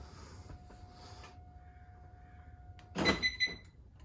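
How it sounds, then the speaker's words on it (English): A Mercedes CLS W219 locking, with a quiet background hum and a steady tone before a burst of mechanical clicks and a clunk from the door locks near the end. "Then I'll push the lock button."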